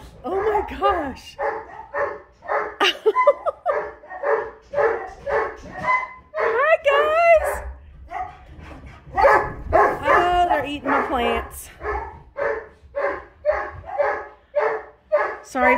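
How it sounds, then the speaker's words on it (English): A dog barks repeatedly in the background while a person talks over it throughout, the barks steady and moderately loud. "Sorry about the barking in the background,"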